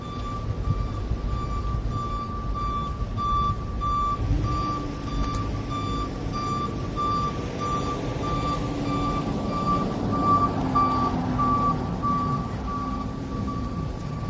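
A reversing truck sounds a steady, loud, repeated electronic beep at an even pace near Golden Gate Park, over a low engine rumble that rises slightly as the vehicle moves, with no talking.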